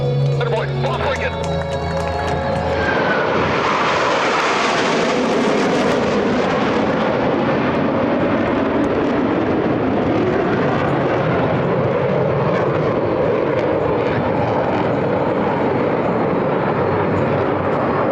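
US Navy Blue Angels jets at the 2026 NAS Patuxent River air show, a loud roaring pass that swells and sustains broadly, with an announcer's voice heard over the start.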